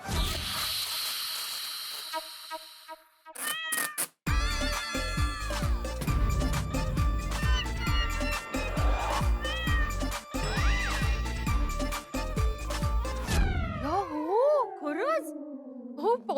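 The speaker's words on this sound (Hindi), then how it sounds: "मैंने बोला था ना कि बिल्ली की आवाज आ रही है" A cat meows repeatedly, loud and close, with drawn-out rising and falling cries and a few hisses, over busy background music and sound effects in a Hindi comedy sitcom scene; people talk briefly.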